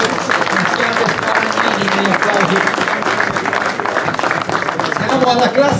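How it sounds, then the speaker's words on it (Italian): Applause for the class winner at a minislalom car race in Bagnara Calabra, a dense, steady clapping from the crowd that carries on throughout. "Un applauso signori, un applauso."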